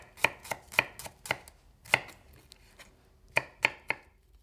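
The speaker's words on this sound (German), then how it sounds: "Die werden in dünne Scheiben geschnitten." Small red Thai shallots being sliced thin with a knife on a cutting board, giving about ten crisp, close chopping strokes in an uneven rhythm with short pauses between them and no talk.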